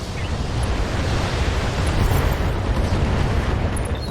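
Mech weapons fire and explosions in the BattleTech video game, a dense, loud, continuous roar of booming blasts and bursts with no break.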